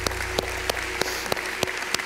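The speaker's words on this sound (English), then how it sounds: "Let's give the Lord a round of applause." Church congregation clapping after a prayer, a dense steady wash of applause with a few sharper evenly spaced claps standing out, fairly loud and continuous without talk.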